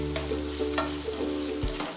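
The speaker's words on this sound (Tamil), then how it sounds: "அதையும் லைட்டா நெய்யில வதக்கிக்கோங்க" Dry ginger powder frying lightly in ghee for Kanchipuram idli, a steady close sizzle with a few soft spatula strokes and a clunk near the end, no voices.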